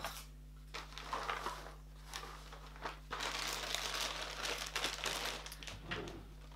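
Crinkling and rustling of wrapping as a puzzle box with a linen-textured finish is opened, bursts of crackly handling noise coming and going close by, louder and denser in the second half.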